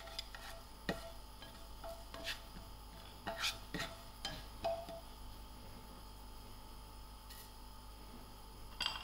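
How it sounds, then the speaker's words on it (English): Whole fennel, cumin and fenugreek seeds sizzling in hot oil in a frying pan for jackfruit pickle, a faint steady fry with a few sharp spoon scrapes and clicks against the pan scattered through. "Allow this to fry out a little."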